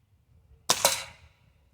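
A Crosman Magfire Ultra .22 air rifle fires a single sharp crack, close and fairly quiet, followed by a quick second snap and a short decaying ring, with near silence around it.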